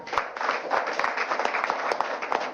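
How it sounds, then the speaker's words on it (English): Brisk, dense audience applause at a Peter Obi address to Nigerian youths, held steady and fairly close for a couple of seconds with no speech over it. "Another round of applause for him."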